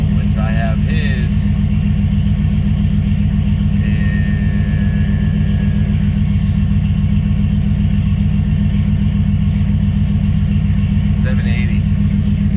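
A Chevrolet S10 engine idling steadily up close, a constant low, throbbing rumble with no change in pace, and a faint voice now and then underneath.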